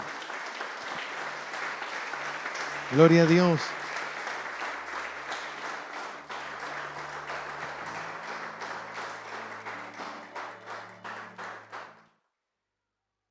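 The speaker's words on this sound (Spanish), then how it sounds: "Dale un fuerte aplauso al Señor" A church congregation at an Easter service applauds warmly for a long stretch, with many hands clapping evenly. One voice briefly calls out praise near the start, and the clapping fades and stops abruptly at the end.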